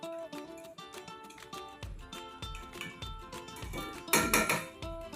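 A metal utensil stirs chopped coriander into a pomfret fish mixture in a pan, making close, repeated clinks and scrapes against the cookware that build to a busy rattling burst near the end.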